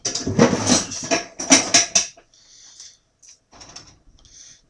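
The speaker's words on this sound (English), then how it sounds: "need to scrape off all this chili" A utensil scrapes chili off a surface in a few rough bursts, loud and close at first, then smaller fainter scrapes with short pauses between.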